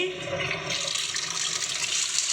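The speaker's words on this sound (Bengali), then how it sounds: "এই যে এখানে সুন্দর করে ভুট্টাগুলোকে ধুয়ে নিচ্ছি" Running water splashes steadily over corn kernels being washed by hand in a home kitchen, a continuous rushing flow that stays fairly loud and close throughout.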